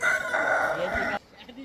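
A man near a cave imitates a rooster crowing: one drawn-out, strained cock-a-doodle-doo, close and loud, cutting off abruptly into quiet background murmur.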